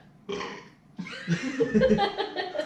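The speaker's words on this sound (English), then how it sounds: "But burps like shit." A loud, drawn-out burp after drinking an orange soft drink, close to the mic, with a short vocal sound just before it.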